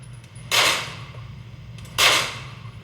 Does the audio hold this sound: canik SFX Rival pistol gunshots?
yes